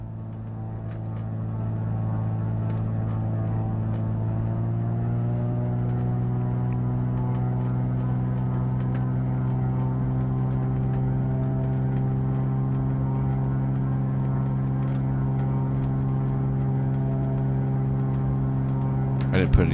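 Navion 205 light aircraft in a flight simulator game, engine at full propeller and full mixture for takeoff, a loud continuous droning hum that steps up in pitch early on, then holds steady.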